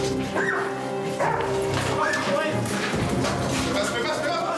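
A dog barks and whimpers at a masked candidate inside a training tunnel during an intervention brigade exercise, with excited yips over loud, busy background noise and people talking.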